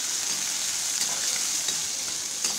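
Finely chopped shallots fry in a hot pan, giving a steady close-up sizzle with faint stirring clicks throughout a short stretch.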